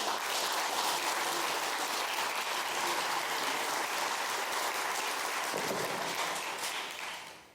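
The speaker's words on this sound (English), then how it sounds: "let's give a welcoming clap to Andrew" A crowd claps steadily to welcome a speaker, a dense, even wash of applause that holds for several seconds before fading at the end.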